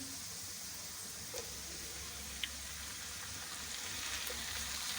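Chopped tomatoes fry in a pan with green chilies, a soft, even sizzle that holds steady throughout, faint and close, with no talk.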